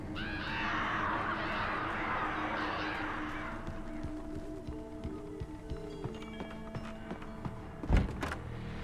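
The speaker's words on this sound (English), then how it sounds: "Fucking crows." Crows caw a few times within the dark horror game Alan Wake Remastered, with the calls fairly faint over a steady low ambient bed, followed by a brief louder thump near the end.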